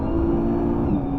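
A 2020 Nissan GT-R Nismo pulls hard at the start of a hot lap, its engine a loud, steady, close drone with a whining tone that climbs slightly toward the end.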